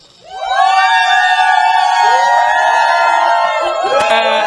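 Loud crowd at an independent wrestling show roaring and cheering for a champion's entrance, the noise swelling up quickly and holding steady with whoops and shouting throughout.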